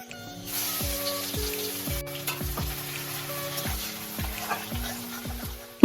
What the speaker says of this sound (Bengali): ওই তেলের উপর কালো জিরে ফোড়ন দিয়ে দেব কুচনো পেঁয়াজ।